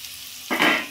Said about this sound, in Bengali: আলু ভাজা হচ্ছে, আলু ভাজা।